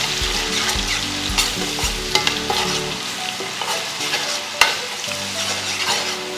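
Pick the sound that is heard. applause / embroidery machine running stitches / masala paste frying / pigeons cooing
masala paste frying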